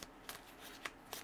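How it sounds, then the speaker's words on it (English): A deck of playing cards is riffled and shuffled during a card reading, giving about four quick papery bursts at a steady pace, close and fairly quiet with no talking. "One more shuffle."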